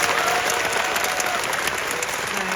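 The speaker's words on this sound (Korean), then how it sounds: "박수 한번 보내주세요." Steady, dense applause from a theatre audience at a post-show talk for the stage play 'Banya Ajae', held at an even level throughout, with no voices on top.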